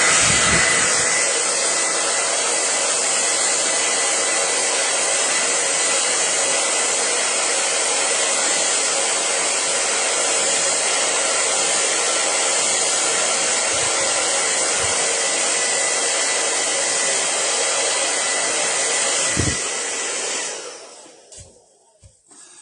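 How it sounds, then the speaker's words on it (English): A hair dryer drying paint blows steadily and loudly at close range for about twenty seconds, then cuts off and winds down at the end. "one more time with the dryer here, and we should be good to top dot then"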